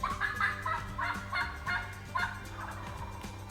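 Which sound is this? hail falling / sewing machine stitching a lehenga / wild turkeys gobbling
wild turkeys gobbling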